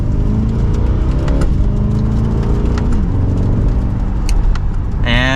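A 2024 Chevrolet Corvette C8 2LT Z51 with a dual-clutch gearbox accelerates hard from second gear, its V8 climbing loudly in pitch with quick upshifts, heard from inside the cabin and building to a snarling roar.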